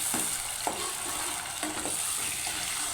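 Tomatoes hiss and crackle in a hot frying pan as a spoon scrapes and stirs them a few times, a steady, fairly quiet sizzle with no talking.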